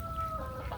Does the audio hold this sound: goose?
yes